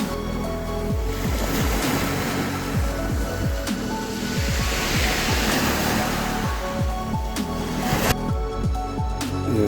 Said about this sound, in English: This tide is rapidly approaching